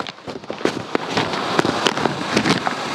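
A peacock feather firecracker from Sivakasi bursting outdoors, a dense continuous crackle with sharp pops scattered throughout, fairly loud and close.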